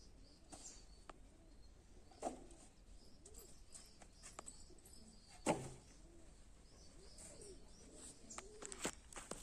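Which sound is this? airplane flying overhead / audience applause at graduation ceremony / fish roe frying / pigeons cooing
pigeons cooing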